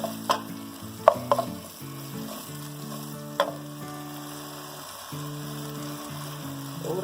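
Bitter gourd and mango theeyal cooks in a pan while a spoon stirs it, with a few sharp clinks of the utensil over a steady simmering sizzle, close by, with no voices.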